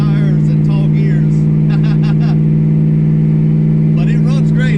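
A Saleen car with a T56 Magnum manual gearbox and tall tires cruises at low speed on a street, its engine humming steadily and loud while someone talks over it.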